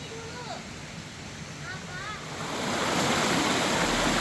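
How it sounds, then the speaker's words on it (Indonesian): A river flows beneath a forest footbridge on a hiking trail to a waterfall, a steady rushing wash that swells louder toward the end, with faint voices briefly under it. "Ini kita lewatin jembatan namanya Batu Loncat 1. Ini sungai ke-1 yang kita lewatin."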